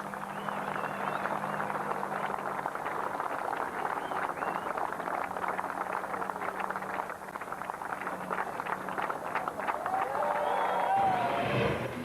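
Crowd noise from spectators staying on after a Class 1 offshore powerboat race in Plymouth, a steady, dense murmur of many voices with wind buffeting throughout, swelling slightly near the end.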